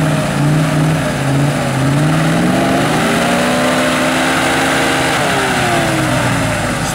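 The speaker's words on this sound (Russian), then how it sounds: "Пусть газует там на этом." A heavy Ural truck engine revs hard and steadily, loud and close, with pitch rising and falling as it strains, likely stuck in a bog, with no talk over it.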